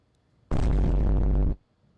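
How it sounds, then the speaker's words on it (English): A single explosion sound effect booms out loud and close for about a second, a dense low-heavy burst that cuts off abruptly. "Explosion."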